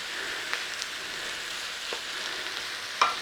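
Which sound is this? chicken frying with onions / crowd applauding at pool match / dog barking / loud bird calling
chicken frying with onions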